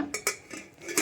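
A pressure cooker lid is shut with a few sharp metallic clanks and clatters, spaced irregularly over a second, close and fairly loud.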